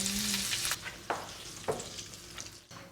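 Salmon steak fries in a pan with a steady close sizzle and crackle, with a few louder spits and stirring scrapes breaking through, and no voices.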